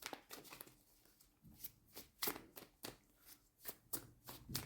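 Tarot cards are shuffled by hand in a quiet room, a series of soft, irregular papery riffles and slaps that come in short bursts, close to the ear.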